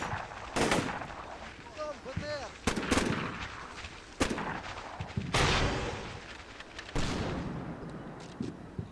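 Gunfire in the video game Black Sea, with sharp rifle and machine-gun bursts and an RPG shot, loud repeated cracks spread across the clip. Voices talk between the shots.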